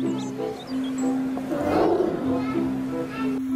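A lion gives a deep, rumbling roar that swells in the middle and fades, with a steady tonal hum and faint children's voices running underneath.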